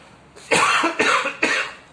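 Three harsh coughs in a row, close and fairly loud, with short pauses between them.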